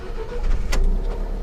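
Alfa Romeo 4C Spider engine starting, a short starter whir rising into a close, loud engine catch and settling into a steady idle rumble.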